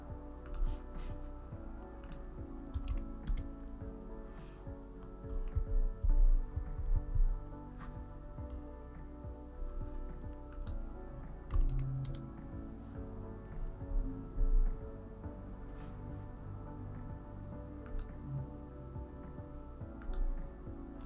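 Computer keyboard keys tapped while working in a design app, a sparse run of light, quiet clicks scattered over a steady low background hum, with no talking.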